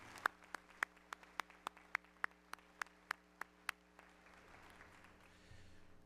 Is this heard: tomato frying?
no